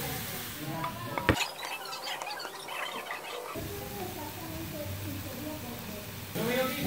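Chopped onion sautéing and being stirred in a hot pan while making quesadillas, with a low sizzle, utensil scrapes and clinks against the pan, and a person talking over it.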